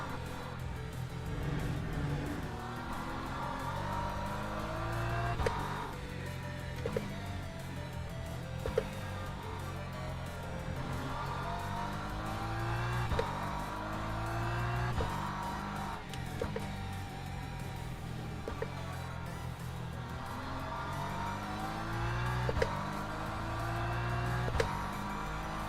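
A race car in Le Mans Ultimate runs continuously, engine note climbing and dropping through repeated gear changes at a moderate, steady level, with brief sharp clicks at intervals and no talking.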